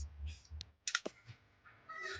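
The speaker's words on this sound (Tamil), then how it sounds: "இப்போ வந்து நான் அருண் அப்படின்னு டைப் பண்ணிக்கிறேன்" Scattered clicks of keys on a computer keyboard while Tamil text is typed in Azhagi software, a few quick taps close up, mixed with brief bits of voice.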